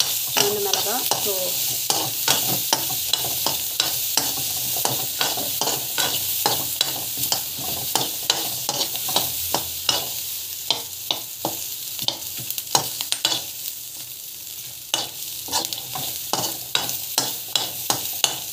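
Onion and chillies frying in a pan for chutney, with frequent spoon scrapes and stirring clatter over a steady close sizzle, no voices.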